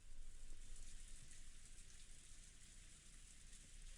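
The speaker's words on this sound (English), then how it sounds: "That's the sound of rain" Steady rain falls as a dense, even hiss across the whole stretch, continuous and fairly quiet with no voices over it.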